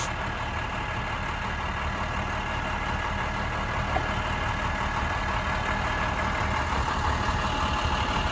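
An International 7500 crane truck with derrick boom idles nearby, a steady, even diesel rumble with a constant drone and no change in pace across the whole stretch.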